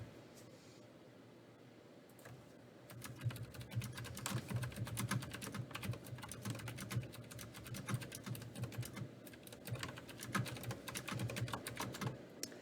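Typing on a computer keyboard through a new microphone: a few seconds of quiet room hum, then a fast, continuous clatter of keystrokes, close and clear, with no voices.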